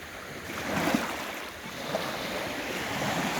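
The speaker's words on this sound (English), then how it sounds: "Yes, Crims, that is definitely water" Ocean surf washes in steady broadband waves with swells building and receding, mixed with wind buffeting the microphone, heard outdoors by the water on a bike ride with no talking.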